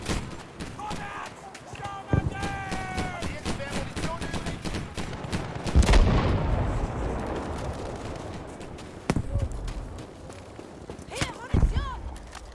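Gunfire crackles across a Battlefield video game match as ships come under fire, with scattered sharp shots, bursts and a heavy blast midway, under a game voice and ambient battle noise.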